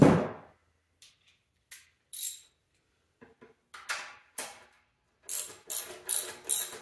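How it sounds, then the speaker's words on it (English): A 19mm socket wrench ratchets in short bursts while tightening nylock nuts on an offroad jack, each clicking run close and crisp with brief pauses between strokes, growing faster and busier toward the end. "I think I'm going to use a socket just to make this a little quicker. And the socket's a 19mm."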